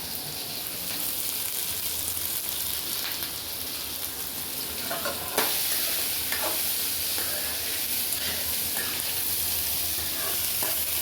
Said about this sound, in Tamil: வெங்காயம் நல்லா வதங்கிட்டு ஃப்ரெண்ட்ஸ்.